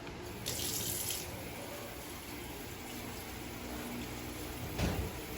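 A kitchen tap runs steadily while food is washed under it for a fiesta macaroni salad, a continuous rushing stream of water, close and even, with a brief splash near the end.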